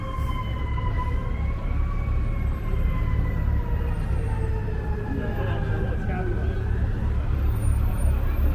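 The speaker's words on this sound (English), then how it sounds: "We overtook the two fire trucks that are trying to get to" Fire truck sirens wailing through heavy New York City traffic on Sixth Avenue, rising and falling tones held steadily over a dense street rumble of engines, with people talking nearby.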